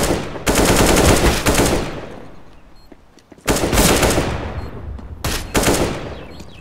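Bursts of automatic rifle fire from the video game CS:GO, two long sustained volleys and a shorter one separated by a quieter gap, loud and close with no talk.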